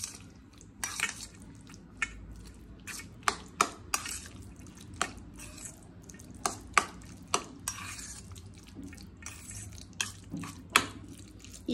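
Tempering for an oats and curd dish stirred in a pan, a steady low sizzle with a dozen or so sharp clinks and scrapes of a spoon against the pot at irregular intervals, close by and without talk.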